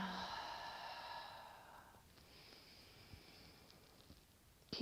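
A person breathing through a yoga flow: a long audible exhale of breath in the opening seconds, then quieter breath and near-silence.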